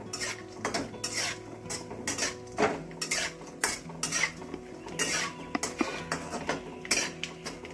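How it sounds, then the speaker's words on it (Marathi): Coconut frying in hot oil while a spoon stirs it around a pan, a low sizzle under frequent clinks and scrapes of metal utensil on the pan, close by with no talking. "आपण खोबरं छानपैकी तेलात फ्राय करून घेणार आहोत।"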